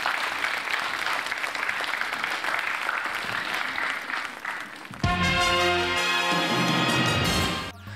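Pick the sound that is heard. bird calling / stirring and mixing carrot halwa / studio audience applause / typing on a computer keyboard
studio audience applause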